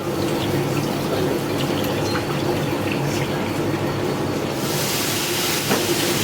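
Milk poured steadily into a jar during homemade cheese preparation, a continuous close liquid stream with a brighter splashing rush toward the end.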